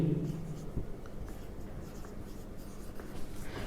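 Pen or marker writing out notes during a computer networking lecture, a continuous faint scratching and tapping that runs throughout.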